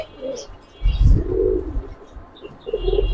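Giribaz pigeons coo in a soft, low burst that swells for about a second, with fainter coos and small chirps following, close by and without speech.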